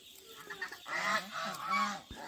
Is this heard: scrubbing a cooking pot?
no